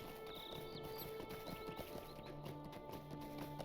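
Horse hooves clip-clopping steadily in the online game Lord of the Rings Online, a continuous rhythmic trot under a low game soundscape, moderately close, with no talking.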